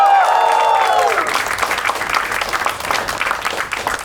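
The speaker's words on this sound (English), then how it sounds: "Please give a huge round of applause for Rohan Desai." Studio audience on a comedy game show gives the sidekick a loud, dense round of applause that starts strong and gradually thins out over about four seconds, mixed with crowd noise.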